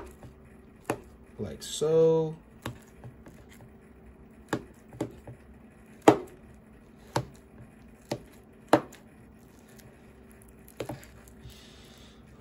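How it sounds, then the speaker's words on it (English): A spoon chops through banana in a bowl, giving a series of separate soft, wet taps spaced a second or so apart in a quiet room, with one brief bit of talk. "I'll take my spoon and I will chop it up like this"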